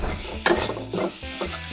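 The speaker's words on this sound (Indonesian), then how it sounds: "Kita goreng-goreng terus sampai dia keluar bau segarnya" Spices, salt, sugar and other ingredients for urap sayur frying in a pan, a soft steady sizzle with a sharper burst of stirring and utensil clatter midway, close and alone.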